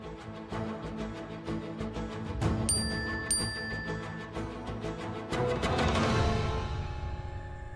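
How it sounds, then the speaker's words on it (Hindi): A phone's message notification tone chimes twice in quick succession, clear and bright over a faint musical background in an indoor household scene. "पहले तेरे मैसेज की टोन ऑफ कर।"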